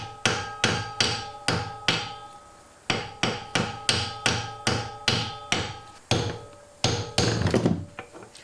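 Hammer blows drive a dropped valve seat into the cylinder head of a 1997 Ford Escort. The sharp metallic strikes come in a steady series of about a dozen, close and loud, with short gaps between them and a quicker flurry of taps near the end.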